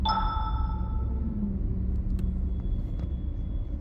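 A Skoda car travelling along a road near Mathura refinery gives off a steady, quiet low rumble of engine and tyres, with a faint high tone fading early on.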